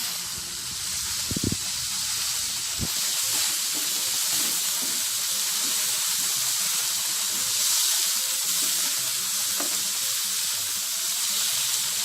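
Vegetable momo stuffing with soy sauce sizzles steadily in a hot pan while being stirred, a loud continuous frying hiss with a few scraping knocks near the start and no voices.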